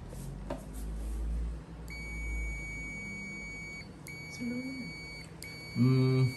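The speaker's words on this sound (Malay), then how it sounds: "Buzzer kita kena setting, kena select dulu. Okey, sampai keluar simbol buzzer. Kita test." A digital clamp meter's continuity buzzer sounds a steady electronic beep in bursts, two long tones then a shorter one, with a low hum and brief background voices underneath.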